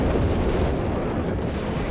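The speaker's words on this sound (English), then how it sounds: "It's an absolute carnival of explosions." Explosions and rocket artillery from the Company of Heroes 3 strategy game, with rockets slamming down and strafing runs. The blasts merge into a loud, continuous booming rumble that does not let up.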